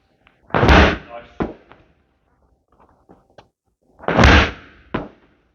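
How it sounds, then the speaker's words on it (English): A workout ball is slammed hard onto the floor twice, each landing a loud, close, heavy thud with a short rebound knock, separated by a few seconds of near silence. "slamming that ball super firm to the floor"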